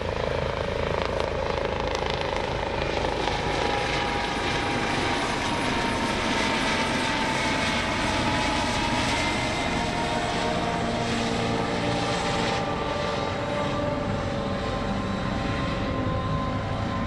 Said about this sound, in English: The MH-65 Dolphin helicopter for us today.